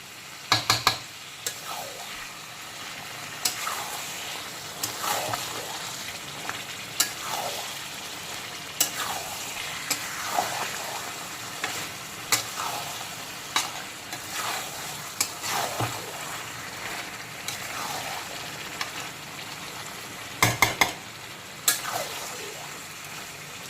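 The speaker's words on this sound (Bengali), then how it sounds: "তো এখন ভেজে রাখা মাংসগুলোকে সমস্ত মশলার সঙ্গে খুব ভালো করে কষিয়ে নেব, অবশ্যই মিডিয়াম টু হাই ফ্লেমে অল্টারনেট করে করে।" Fried chicken pieces being stir-fried with spices in a pan over medium to high flame for Kashmiri-style rogan josh: a continuous sizzle broken by repeated scraping stirs and occasional clatters of the spatula, close and fairly loud, no talk.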